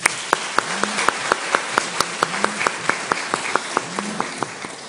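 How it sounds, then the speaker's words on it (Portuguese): An audience applauding at a talk, a thick bed of clapping with sharp, evenly spaced claps standing out in a steady rhythm throughout. "Palmas para todos."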